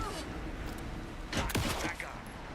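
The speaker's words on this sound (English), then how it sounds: "Anderson, hit him down with gunfire for me to get the light on him." Gunfire in a dark survival-horror shooter game: a quick cluster of sharp shots and impacts in the middle of a short, noisy stretch, under a continuous rumbling backdrop with a voice present.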